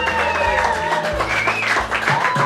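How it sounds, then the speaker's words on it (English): A family audience gives a round of applause for Joey, a performer at a community celebration, the clapping fairly loud and close, mixed with tonal background sound and some voices. "So let's give Joey a gorgeous family round of applause."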